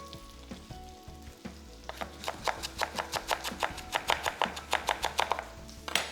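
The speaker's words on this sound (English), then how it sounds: "While this is frying, what I'll do, I'll quickly chop my herbs" Herbs being chopped on a board while food fries in a pan nearby, giving a steady rhythmic series of close, crisp knife taps over a low background sizzle.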